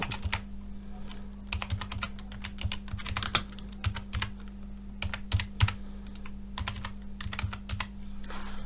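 Close computer keyboard typing in quick bursts of clicking keystrokes separated by short pauses, with a steady low electrical hum underneath and no talking.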